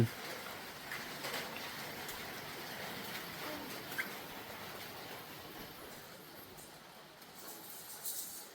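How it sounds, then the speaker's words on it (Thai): Rain falls steadily in the early evening, a soft continuous hiss with a few louder patters, fairly faint and with no one talking over it. "ฝนก็ตกอีกแล้ว"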